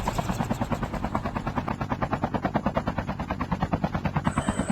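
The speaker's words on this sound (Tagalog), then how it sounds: "Sakay tayo ng helicopter." A helicopter in the video game Call of Duty gives off a loud, close, steady rotor thump. The rapid, even chopping pulses continue without a break, and no one speaks.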